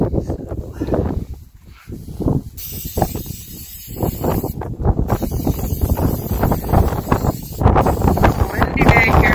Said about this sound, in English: Windy day here near Yuma